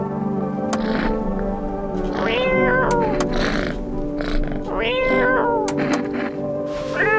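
Repeated cat meows from a video game, several rising, drawn-out calls spaced across the stretch over steady background music, loud and close.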